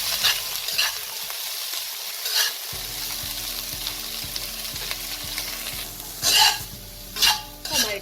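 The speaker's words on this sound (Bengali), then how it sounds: "ছোট ছোট করে কেটে নিয়েছি ফুলকপি, গাজর আর বিনস। এটাকে হালকা ফ্রাই করে নেব।" Chopped cauliflower, carrot and beans lightly stir-fried for quinoa pulao, a close, loud continuous sizzle with repeated rhythmic spatula scrapes and a few sharp clanks against the pan.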